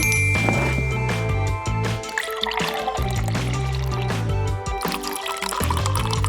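Fresh mango juice pours into glasses with a continuous liquid splash and trickle, punctuated by light glass clinks, set against a steady tonal backing.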